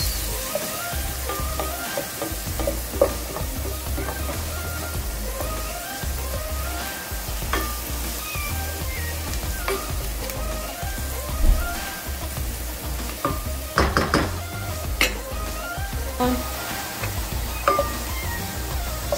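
Carrots sizzle and fry steadily in a pan, with a continuous close hiss, scattered crackles and occasional utensil clinks and stirring scrapes, including a cluster of clinks partway through.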